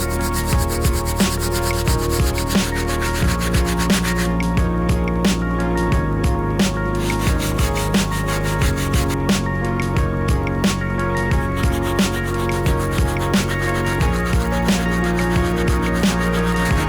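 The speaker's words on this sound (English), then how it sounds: "The first brush we're going to be using is the stiff bristle brush to clean up these soles." A stiff bristle brush scrubs the soles of a rare Supreme collab shoe with cleaning solution, giving a loud, continuous rhythmic scratching of rapid back-and-forth strokes, close up with no talking.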